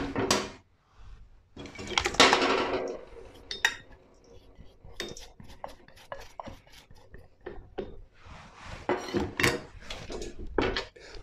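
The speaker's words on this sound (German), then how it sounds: "Da rührt ihr dann schon ganz schön lange, vielleicht 3-4 Minuten, bis sich das Klebereiweiß gebildet hat." Low-carb pizza dough is stirred in a bowl, the utensil scraping and clinking against the bowl sides in irregular close strokes with occasional louder knocks.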